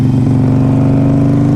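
2014 Harley-Davidson Forty-Eight motorcycle pulling away in first gear, its V-twin engine giving a loud, close, thumping drone with a steady low pulse throughout.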